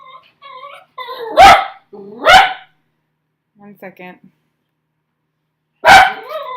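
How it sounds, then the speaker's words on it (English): A dog barks sharply three times, spaced apart, with a person speaking briefly between the barks. "I'm sorry if you can hear my dog barking in the background."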